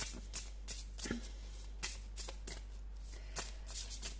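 Tarot cards are shuffled and drawn by hand in a quiet room, with a quick series of soft, crisp riffling snaps and flicks at an uneven rhythm, close and faint.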